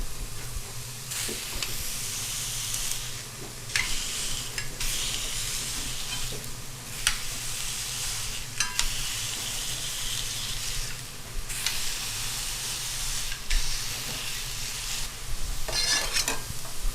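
Smashed beef meatballs for burgers fry on a hot griddle, a continuous close sizzle punctuated by bursts of louder crackle and scraping throughout.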